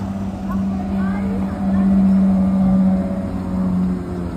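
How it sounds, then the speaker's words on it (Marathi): Steady stream of cars driving past one after another near the casino in Monaco, engines humming and swelling continuously while people talk over the traffic. "कंटिन्यू वन बाय वन अशा गाड्या दिसायला लागल्यात"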